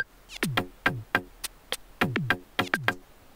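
A drum loop from a Korg Volca Sample plays its kick and cymbal with the snare removed, giving a steady rhythmic pattern of sharp, clicky hits that decay quickly. It plays fairly quietly and on its own.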